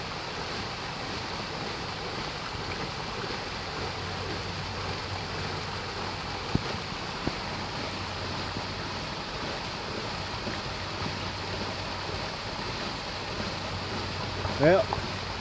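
A creek flows with a soft, steady rush at a quiet distance, mixed with faint wind noise and a few small knocks near the end.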